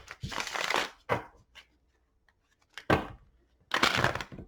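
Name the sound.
shuffling tarot cards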